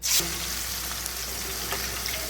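Green chillies dropped into hot oil with curry leaves, a sudden burst of crackling spatter at the start settling into a steady bright sizzle close by.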